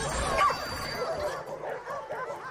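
Small dogs bark and yip in a fighting video game, a busy cluster of barks over game sound effects, moderately loud.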